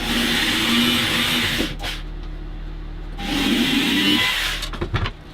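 Drilling a hole in wood while building an A-frame birdhouse, with two sustained buzzing bursts of a power drill, close by, separated by a short pause and followed by a few handling knocks.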